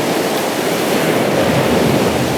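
Huge ocean surf roars steadily and loudly, a dense continuous wash of breaking waves with wind noise on the microphone and no voices.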